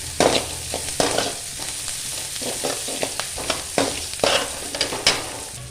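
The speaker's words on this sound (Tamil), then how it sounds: "நல்லா வதக்கிடலாம்." Vermicelli sizzles steadily as it sautés in a hot pan, broken by repeated scraping stirs at an irregular pace, close and fairly loud, with no talking.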